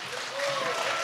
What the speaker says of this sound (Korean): 우리 하모의 팀에게 큰 박수 부탁드리겠습니다